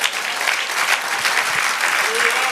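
Church congregation applauding during a Spanish-language worship service, steady dense clapping throughout with voices mixed in.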